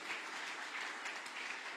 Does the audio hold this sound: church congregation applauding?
yes